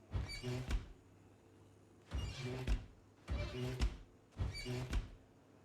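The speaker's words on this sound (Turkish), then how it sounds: "bu fırının kapak sesi" A video game oven door clunks open and shut four times in a row, each a short, solid thunk with a slight rattle, evenly spaced.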